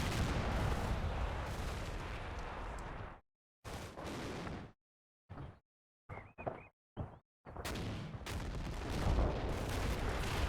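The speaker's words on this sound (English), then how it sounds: "Okay, all guns merrily firing." Gunfire from several weapons in the WWII tank battle game Combat Mission: Battle for Normandy, with sustained rumbling volleys that give way to a few separate sharp shots and brief silences before another heavy burst.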